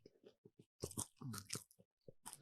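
Loud close-up crunching and chewing of food in an over-chewing challenge, irregular bursts of wet mastication with short pauses, no talk.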